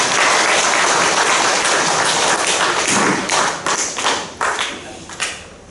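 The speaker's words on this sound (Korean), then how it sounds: "한번 감사하다고 박수 한번 칩시다." A congregation of elderly worshippers at a Wednesday church service applauds in a dense burst of clapping that thins into scattered individual claps and fades.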